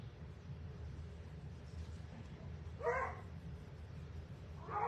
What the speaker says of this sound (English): They just, no choice but to bark inside their kennel.